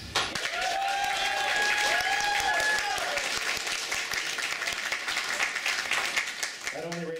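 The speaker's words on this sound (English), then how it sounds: "let's get a round of applause for Air Blast" Applause fills a room at a City of Heroes player summit workshop, a sustained wash of clapping from an audience that fades gradually, with brief tonal sounds near the start and a voice beginning to speak at the close.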